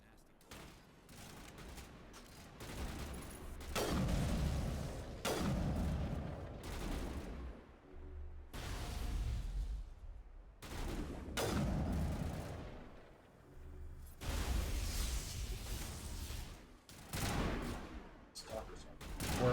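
Turret gunfire in Mass Effect 1 (Legendary Edition), heavy repeated bursts of booming shots in long waves with short lulls, loud and mechanical amid the combat din.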